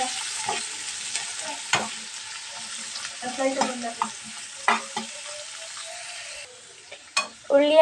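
Small onions sizzle steadily in hot oil while a utensil stirs and scrapes the pan in short bursts, close and fairly clear, with no voices.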